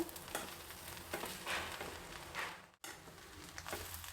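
Sprouts pulav frying in a pan gives off a steady, faint sizzle with a few soft stirring swells, close and continuous, broken by a momentary cut near the end.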